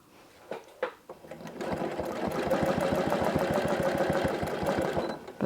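A Janome CM17 sewing machine stitches during ruler quilting with a longer stitch length, its needle running in a fast, even rhythmic chatter close by after a couple of short starts, with no talking.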